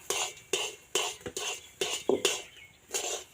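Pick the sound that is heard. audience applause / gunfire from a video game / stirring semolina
stirring semolina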